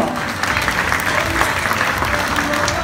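An audience at a school breakfast room inauguration in Mexico claps steadily and loudly, dense applause filling the whole stretch with a faint voice or two underneath.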